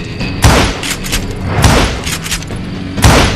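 Gunfire in the western shooter Call of Juarez Gunslinger at a camp outside Parachute, Colorado: three loud booming shots spaced about a second apart, with rattling echoes and crackling between them.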